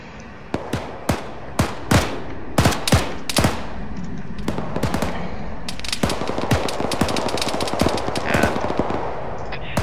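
Gunfire in an urban firefight with contacts inside a building across the road: a string of sharp, loud shots, first spaced out, then rapid bursts of overlapping automatic fire with echoing cracks.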